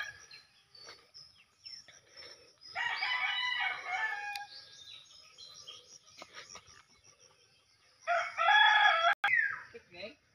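Chickens cluck and a rooster crows close by in a Filipino village yard, with two loud bursts of crowing and clucking separated by quieter fowl chatter and faint insect sounds.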